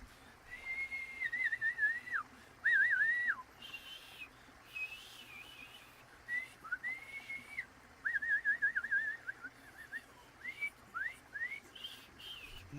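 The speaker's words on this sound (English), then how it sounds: "A bunch of whistles and shit." Several rising and falling whistles come in short, separate phrases, fairly faint, with pauses in between.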